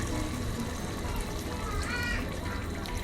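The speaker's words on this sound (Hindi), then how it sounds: "अब हम क्या करेंगे कि इसमें 2 कप ऑलमोस्ट पानी ऐड" Almost two cups of water are poured into a pot of aloo gosht in a home kitchen, a brief steady splashing trickle heard near and continuous under a low background.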